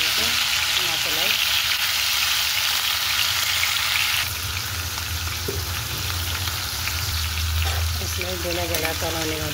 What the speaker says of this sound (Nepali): त्यसरी म यसलाई फ्राई हुन दिन्छु मासुलाई।